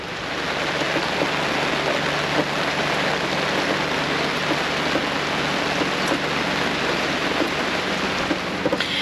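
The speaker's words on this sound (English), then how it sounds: "It's pouring rain right now" Heavy rain pours steadily onto a boat in Vanuatu, a dense, loud, unbroken hiss of drops drumming on surfaces that lasts throughout, with no voices.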